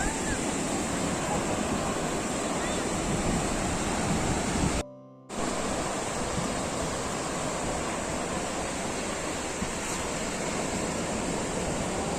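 Surf rolls onto a beach at Mangaluru in a steady, broad wash of breaking waves mixed with wind rumble on the microphone, with a brief dropout partway through and no voices.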